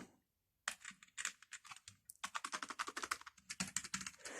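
Typing on an Everest KB-517U keyboard with silent keys: after a short silence, rapid soft muted key taps come in quick irregular bursts, close and quiet.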